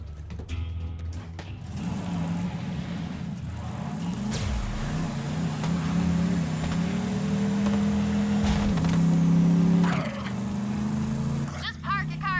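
Car driving in the video game Borderlands, a steady engine drone with revving swells and a brief pitch shift midway, loud and continuous, with game sound effects layered on top.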